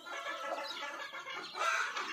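A free-range desi hen on a poultry farm in Hyderabad clucks steadily among her chicks, with a continuous chorus of soft, overlapping clucks and peeps at close range.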